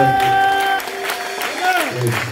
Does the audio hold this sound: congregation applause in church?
yes